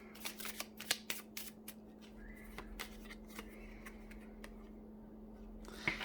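Tarot cards being shuffled, a quick run of riffling flicks and taps at the start, then quieter, sparser card sounds over a steady low background hum.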